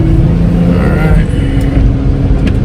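An older Buick Rendezvous is driving, giving a loud, steady interior road and engine drone with a low hum throughout, while faint background sounds pass by.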